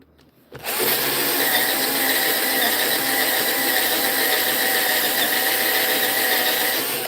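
Corded power drill boring through a piece of wood in a woodturning shop, starting abruptly and holding a loud, constant whirring whine with a faint squeal as the bit keeps cutting all the way through.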